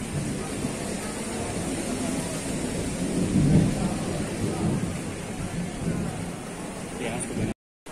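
Heavy rain and a rumbling thunderstorm at an outdoor youth program, a steady loud wash of rain with thunder swelling midway, cutting off abruptly near the end.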